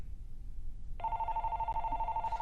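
A telephone rings on a call-in radio show line, a steady electronic ring tone starting about a second in and continuing moderately loud over a faint background hiss.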